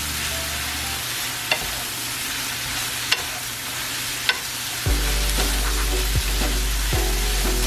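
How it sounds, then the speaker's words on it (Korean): Vegetables for japchae stir-fried in a pan, a steady close sizzle with occasional clacks of a utensil against the pan, and the frying growing louder and denser partway through. "채소는 이 정도 볶아주시고요."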